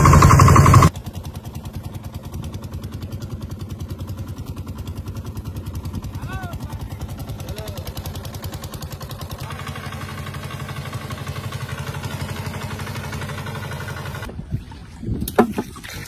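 A fishing boat's engine chugs steadily after starting, a low, continuous, close drone that runs nearly the whole time, with a brief louder burst at the start and clattering near the end.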